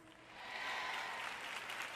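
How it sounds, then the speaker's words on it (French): A church audience claps steadily during a sermon, a soft wash of applause that swells slightly then holds, heard from a distance and fairly faint. "Vous applaudissez tous"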